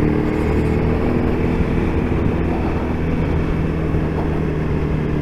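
A Yamaha FZ1-N motorcycle pulling smoothly in sixth gear at about 30 mph, its engine a steady loud drone under rushing wind, constant and unbroken throughout.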